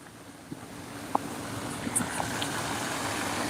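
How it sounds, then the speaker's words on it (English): Water from the Poyner Place fountain in Raleigh, North Carolina, splashes at night in a continuous rushing roar like a waterfall, steady and fairly near, with a few small knocks and no talk. "It does sound like the ocean, yeah. A little bit. Sounds like a waterfall."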